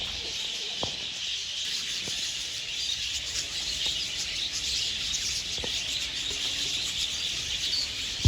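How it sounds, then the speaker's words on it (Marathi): Birds at Nandankanan zoo give scattered chirps over a steady high hiss of insects or ambient noise, faint and somewhat distant, with no talk. "इथं अलग अलग प्रकारचे पक्षी आहेत, तुम्ही बघू शकता."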